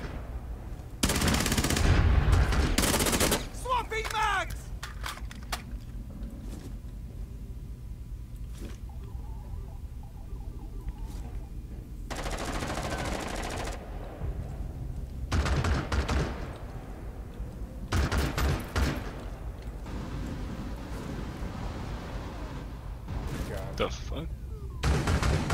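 Gunfire in the tactical shooter game Rainbow Six, with sharp bursts of rapid shots clustered in several volleys amid steady background game noise and players talking.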